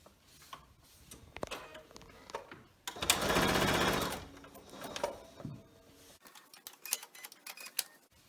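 Sewing machine stitching binding onto a homemade fabric mask, a rapid mechanical whir in a short burst about a second long, close by, surrounded by quieter handling clicks and fabric rustle.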